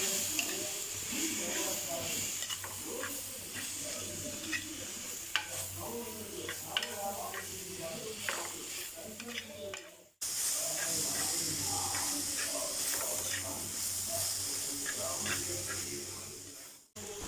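Onions sauté in a pan for a Malayalam-style masala chicken curry, a steady hissing sizzle that runs under a person talking, broken by a brief cut partway through.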